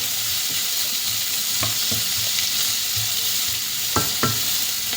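Onions sauté in a pan as liver pepper fry is cooked, a constant close sizzle with a few sharp stirring knocks near the end and no talk.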